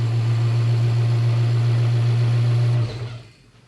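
A supercharged Toyota 1UZ V8 in a Toyota Prado idles loudly and steadily with a strong low hum, then cuts out abruptly near the end and dies away.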